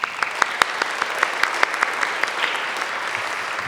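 An awards event audience gives steady applause for a county supervisor, many hands clapping at once, with a few louder single claps close by. The clapping continues unbroken for several seconds, with no one talking over it.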